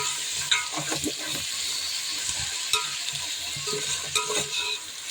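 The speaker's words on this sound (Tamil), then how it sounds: "அதுலேயே தக்காளியும் ஆட் பண்ணிக்கலாம் நல்லா மிக்ஸ் பண்ணி விடலாம்" Mint, coriander and tomato being mixed into frying mutton biryani masala in a pot, a continuous near sizzle with a few distinct scraping and clinking stir strokes, no voices.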